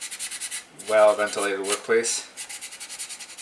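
Continuous close scratchy rubbing of sandpaper on filled seams of a plastic scale model, steady strokes running under a voice in the middle.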